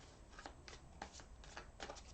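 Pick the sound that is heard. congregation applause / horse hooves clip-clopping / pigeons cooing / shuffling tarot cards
shuffling tarot cards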